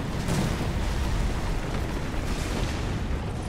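Heavy tank cannon fire in War Thunder, a dense, loud blast with a rumbling boom that fills the whole moment, alone with no talk.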